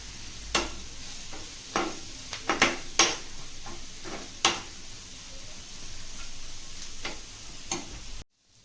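Ground masala frying in a pan for egg curry, a steady close sizzle broken by sharp scraping and stirring clacks of a spoon against the pan, with no talking.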